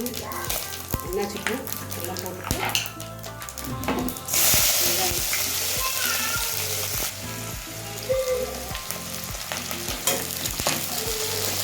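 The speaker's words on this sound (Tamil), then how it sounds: "இதை ஃப்ரை பண்ணிக்கலாம்" Chicken frying in oil in a pan with fennel seeds, cinnamon and cloves gives a loud, steady sizzle and crackle, with stirring scrapes throughout.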